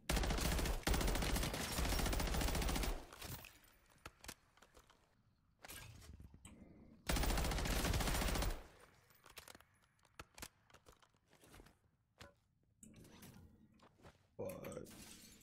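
Bursts of rapid gunfire in Modern Warfare 3 Zombies, loud and dense in two sustained volleys, separated by quieter stretches of scattered shots and game noise with a voice talking over parts of it.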